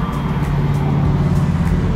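A car engine hums steadily at close range with a low, continuous drone, the road noise holding even throughout without any voices.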